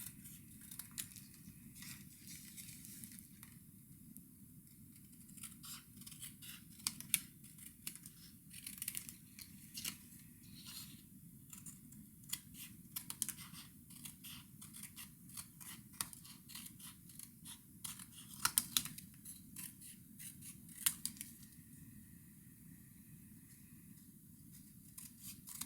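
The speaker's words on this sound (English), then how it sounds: "we are going to take our paper snips and we're just going to cut as close to the card as we can" Paper snips cutting around the edge of a piece of card paper while making a scrappy gilded card, a long run of steady, close snipping and crisp slicing with faint paper rustle between cuts.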